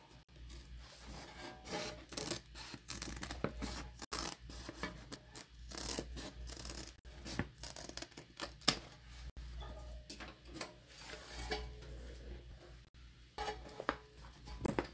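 Scissors trim fabric for a tote bag lining, a close, quiet run of irregular snipping and rubbing strokes with brief pauses, no talk.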